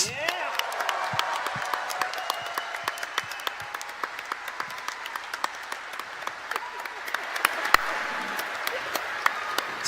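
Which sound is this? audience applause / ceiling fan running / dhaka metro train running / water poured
audience applause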